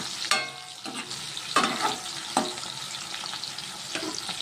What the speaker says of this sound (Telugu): ఇవి మగ్గాలన్నమాట కొంచెం సేపు. ఇవి వేగిపోయేసి చక్కగా